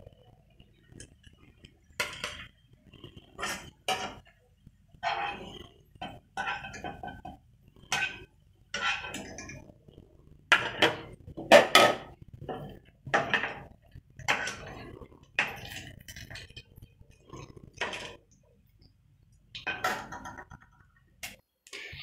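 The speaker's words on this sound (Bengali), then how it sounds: "এখন বেরেস্তাগুলো তুলে নিচ্ছি।" Fried onion beresta being lifted out of a pan with a utensil, producing a series of close, sharp metallic clinks and scrapes in irregular rhythm with quiet pauses between them.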